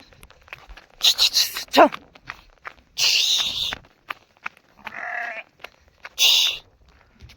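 A goat bleats in several loud, close, wavering calls separated by short pauses, with light rustling and footsteps between them.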